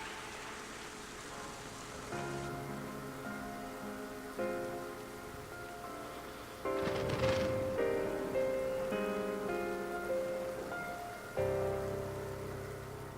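Steady patter of rain falling in the video game Final Fantasy XIII, soft and continuous beneath sustained melodic music that swells and shifts in the middle, with no speech.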